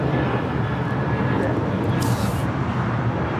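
A United Airlines Boeing 737-800 taking off at LAX, a loud, steady broadband engine roar heard from a spotting position with a brief hiss partway through.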